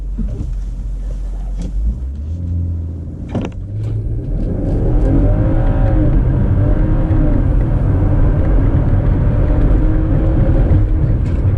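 A BMW X5 45e accelerates hard from a standstill to 60 mph, heard from inside as a deep, loud, rising drone that builds and holds steady to the end.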